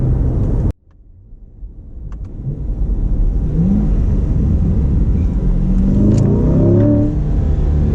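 A deep 2020 Chevrolet Corvette C8 Stingray Z51 V8 engine roars loudly nearby, cutting off abruptly, then building back up into a sustained rumbling rev with rising and falling pitch.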